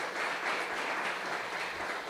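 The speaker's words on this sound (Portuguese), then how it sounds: "aplauda o Senhor mais uma vez." A church congregation applauds during a worship service, a brief, fairly soft and steady patter of many hands clapping in a large room.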